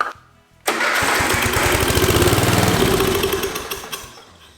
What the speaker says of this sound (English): The engine starts, I know it starts.